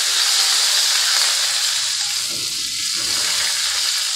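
Curry leaves hit hot oil where mustard seeds have been spluttering, for a Doddapatre (Mexican mint leaf) gojju: a loud, steady broadband sizzle, close up, softening slightly midway, with no talking.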